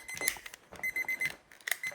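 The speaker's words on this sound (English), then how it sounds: "there's the timer going" A kitchen timer goes off in a home during a cleaning routine, giving a quick series of sharp, high electronic beeps in repeated bursts, fairly close and clear with no talking over it.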